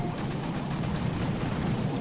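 Artillery fire in Boom Beach pounds in a thick, sustained roar of overlapping blasts, loud and close, with faint talk underneath.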